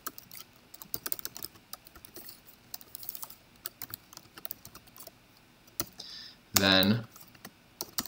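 Typing on a computer keyboard while a lawyer's response is written in code for a Racket programming lesson, a steady run of light clicky keystrokes with brief pauses, plus a short louder burst near the end and a single spoken word.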